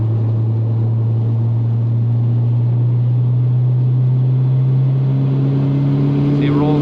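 Turbocharged 8V engine of an MK4 VW Jetta wagon heard from inside the car, a loud steady drone that rises in pitch near the end as it accelerates.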